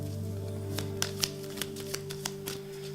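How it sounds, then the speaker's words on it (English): Tarot cards being shuffled by hand, a series of soft, crisp riffles and taps sounding close but faint over a steady low hum. "Maybe I'll just shuffle a little bit more after dropping that card."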